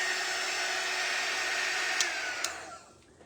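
Hair dryer blowing steadily up close to dry stencil ink on a pillow cover, a loud continuous whooshing whine with a couple of faint clicks before it winds down and switches off at the end; no talking.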